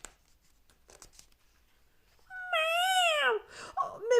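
A real cat meows loudly in a long, drawn-out wail with a falling pitch, followed by a shorter second cry, after quiet rustling and faint papery sounds.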